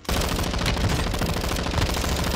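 Sustained automatic gunfire in Call of Duty: Modern Warfare II on the Ashika Island map, a dense unbroken stream of loud rapid shots filling the whole moment with no talking over it.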